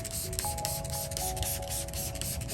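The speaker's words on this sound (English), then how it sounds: "Let's spray them down with a bunch of FBomb, and we're just gonna pressure wash them." Pressure washer spraying carpet mats coated with F-Bomb cleaner in an auto detailing garage, a steady loud hissing rush of water with constant broadband spray noise and a faint tonal whine underneath, no talking.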